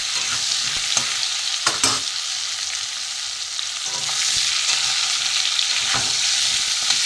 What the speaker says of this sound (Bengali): সুন্দর ভাজা হয়ে লাল করে পটল ভাজা হয়ে গেছে